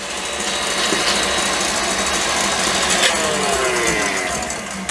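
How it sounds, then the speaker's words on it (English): An electric whisk beater whips egg whites toward stiff peaks for divinity candy, producing a continuous loud motor whir with steady buzzing that holds level throughout, close by and without talk. "I'm going to go ahead and beat my egg whites until they are stiff. I will use my whisk beater."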